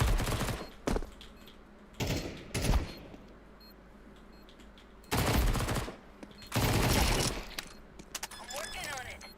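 An MP9 submachine gun fires in Counter-Strike 2 in several rapid automatic bursts, loud and close, separated by quieter stretches with faint clicks and other game sounds; a voice speaks between the bursts.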